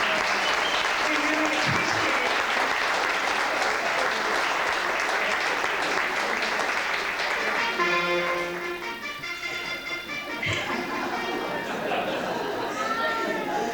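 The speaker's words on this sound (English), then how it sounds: "I'd like you all to give a round of applause for Governor Cuomo for his work." Sustained applause from a large crowd at a community meeting, loud and dense at first, then thinning out toward the end with some scattered voices.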